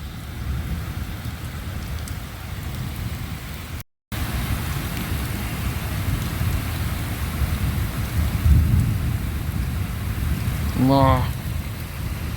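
A thunderstorm with steady rain hissing on surfaces and low rumbles of thunder, a loud roll swelling near the end while a voice speaks briefly.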